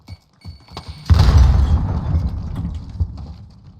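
A frag grenade explodes in Call of Duty Warzone with a sudden heavy boom that rumbles and fades over a couple of seconds, following a few faint footsteps.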